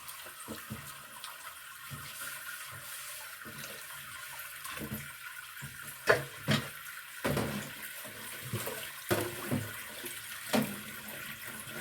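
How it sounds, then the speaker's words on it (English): A kitchen tap runs at low water pressure while dishes are washed in a sink, with a soft continuous trickle broken by irregular splashes and clattering knocks of dishes, close by and without speech. "Washing my dishes"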